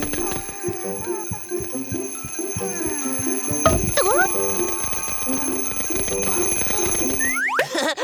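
A cartoon alarm clock rings with a bright, continuous bell-like tone beneath animated characters' speech and music, with a sharp clatter partway through.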